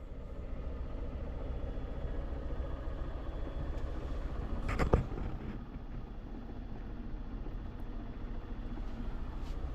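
Tata Nano engine idling as heard from inside the cabin with the windows up, a steady low muffled drone running evenly throughout, with one brief louder knock or bump partway through.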